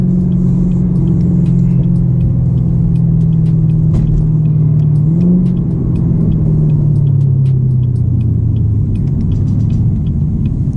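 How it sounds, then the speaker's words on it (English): Camaro ZL1 1LE with the 10-speed gearbox, driven hard on the road: a loud, steady, deep exhaust drone whose pitch dips and wavers slightly, continuous and close, with no talking. "And man, it's so much, and the car is just so loud."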